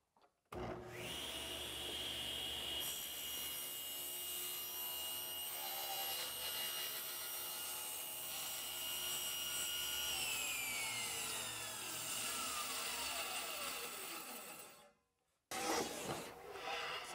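A saw runs through wood on a miter sled with a long, steady whirring cut. Its whine winds down afterward, followed by a short burst of closer handling noise.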